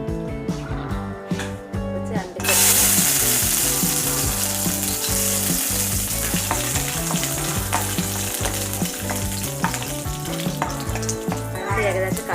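Vermicelli fries in ghee in a pan for Kerala semiya payasam, a steady close crackling sizzle with scraping stir sounds, jumping louder after a couple of seconds and continuing without talk.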